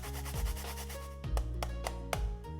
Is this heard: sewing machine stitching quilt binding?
no